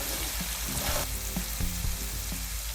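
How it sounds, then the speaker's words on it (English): Onion paste frying in mustard oil, a loud hissing sizzle with a few soft knocks of a spoon stirring through it. "Now, in the same oil, I add onion paste,"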